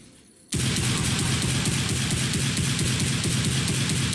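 A Guycot Chain Carbine fires in the Roblox Wild West game; after a half-second of near silence, a loud, rapid, unbroken stream of evenly spaced shots begins abruptly and continues to the end.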